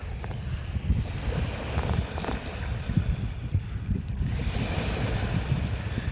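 Sea waves rush and surge up through a hole in coastal rocks at Jam, a steady low roar of churning water with wind buffeting the microphone, no voices.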